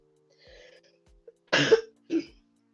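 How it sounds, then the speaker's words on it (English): Two sharp, close coughs in quick succession, the first harsher and louder, after a few faint breaths in a quiet room. "I will apologise if I cough and stuff"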